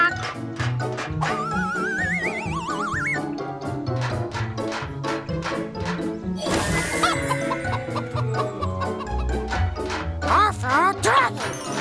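Cartoon chickens cluck and squawk in quick bursts amid lively music, whistling slide effects and chuckling laughter.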